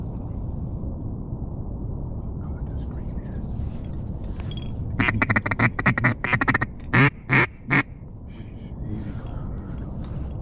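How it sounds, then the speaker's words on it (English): Mallard ducks quack in a burst of rapid calls followed by a few louder separate quacks, over steady outdoor wind noise at a winter duck hunt in Virginia during a freeze-up. "Look at these mallards."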